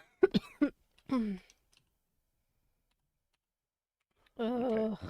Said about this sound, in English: The more I talk, the more I cough.